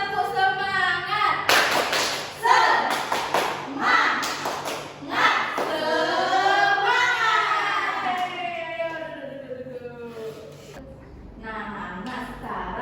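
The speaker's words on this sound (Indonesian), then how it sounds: "Ayo kita tepuk activity, tepuk semangat dulu ya." Children in an Indonesian primary-school classroom chanting and clapping the rhythmic tepuk semangat routine, voices rising and falling in sing-song phrases with bursts of hand claps, loud and close, fading into a teacher's voice near the end.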